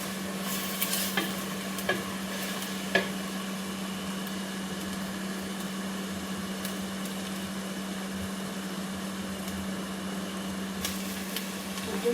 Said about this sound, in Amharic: አብሬ ነው ከቀይ ሽንኩርቱ ጋር መጠብሰው